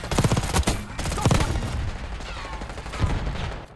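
Rapid bursts of gunfire in a Call of Duty match, several loud volleys early, then a steadier stream of shots and a final burst near the end.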